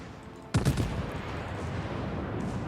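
Naval gun salvo in World of Warships fired around the cruiser KM Prinz Eitel Friedrich: a sudden sharp blast followed by a rolling boom and lingering battle rumble, fairly distant, no voices.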